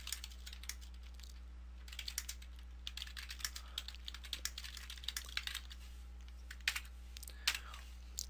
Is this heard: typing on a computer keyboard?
yes